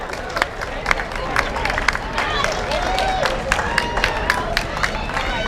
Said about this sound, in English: give them a big warm round of applause